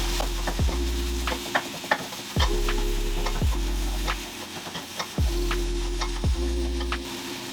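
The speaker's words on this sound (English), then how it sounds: "And then we're gonna mix this up." Vegan tofu scramble with turmeric stirred in a hot pan, soft sizzling beneath repeated rhythmic scraping strokes of a utensil, about five sweeps, close and clear.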